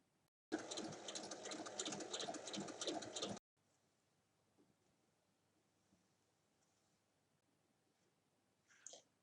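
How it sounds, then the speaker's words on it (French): A sewing machine topstitches fabric for a bag in one steady, fast-running burst of about three seconds, close and loud, then stops into near silence broken by a faint handling noise. "Je viens faire une surpiqûre ici"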